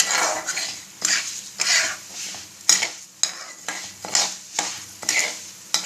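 Moong dal roasts in ghee for laddu while a spoon scrapes the pan in regular strokes about every half second, each stroke over a soft background sizzle.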